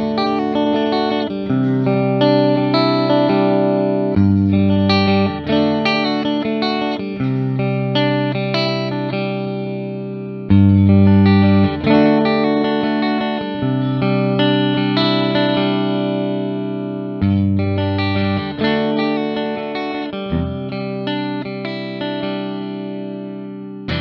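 An Epiphone Jerry Cantrell Les Paul electric guitar on its neck pickup plays distorted chords and riffs, thick, sustained and loud, with rhythmic strummed bursts and held notes ringing out, alone without talk.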